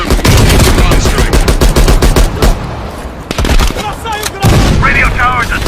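Bomb strike explosions in an action film, loud and close, with rapid bursts of gunfire and booming blasts in quick succession, a short lull, then more heavy impacts.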